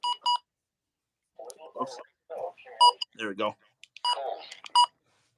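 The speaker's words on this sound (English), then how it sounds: "It also has different button beeps." Short, bright electronic button beeps from a Midland HH54 VP15 weather radio, with a pair at the start and more scattered later, sounding close and clear between bits of a man's casual speech.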